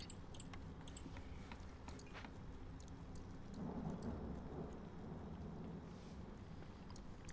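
Storm in Against the Storm, steady rain hissing with a low rumble of thunder rising in the middle, faint and continuous, with scattered light taps over the downpour and no voices.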